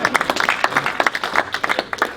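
Wedding guests break into clapping during a reception speech, a steady patter of many hands for a couple of seconds, moderately close and busy, with no voices standing out.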